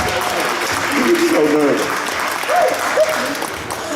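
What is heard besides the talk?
convention audience applause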